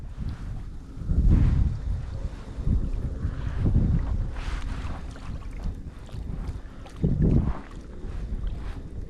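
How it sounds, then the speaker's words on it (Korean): Wind buffets a small fishing boat on a spring reservoir during bass fishing, with waves slapping the hull in repeated low thumps and steady wind noise rushing over the microphone throughout. "파도 치네, 아주."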